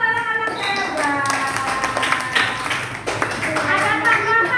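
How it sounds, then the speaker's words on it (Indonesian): Elementary school children in a classroom clap together for their classmates, a lively patter of small hands mixed with voices chanting and talking over the claps. "Tepuk tangan untuk anak-anak hebat."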